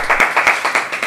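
A few hands clap in a quick, uneven burst for a first-time game participant on a casual chat show, close and fairly loud, with about eight or nine sharp claps over a second.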